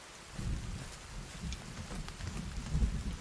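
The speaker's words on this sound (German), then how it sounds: "So, es regnet." Steady rain falls in the survival game Sons of the Forest, a continuous close wash of patter with a low rumbling undertone that swells slightly now and then, with no voices.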